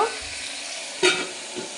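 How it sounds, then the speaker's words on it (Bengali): Potatoes fry in a pan with salt and turmeric, a soft steady sizzle with brief stirring scrapes and clinks, one sharper knock near the middle. "আলুটাকে খুব ভালো করে ভেজে নেব"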